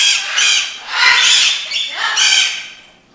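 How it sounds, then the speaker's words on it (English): Cockatiels at an adoption shelter squawk in several loud, harsh, drawn-out bursts close by, one after another, with no talking. "a whole bunch of very nice cockatiels that are also waiting to be adopted"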